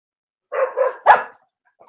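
A dog gives two quick, close barks followed by a sharper third bark, loud and alone against silence.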